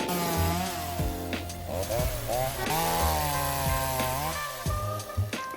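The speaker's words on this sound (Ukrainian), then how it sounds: "Подивимось на бензопилу Techman CSG 2045 в дії." A Tekhmann CSG-2045 gasoline chainsaw runs loud and close, its engine revving up and dropping back repeatedly with a rough, buzzing snarl.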